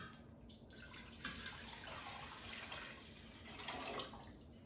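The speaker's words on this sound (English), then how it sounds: "we're going to cut it with 6 cups of water," Water pouring steadily into a cooking pot while making limoncello, a continuous soft splashing stream heard alone, fairly quiet and close.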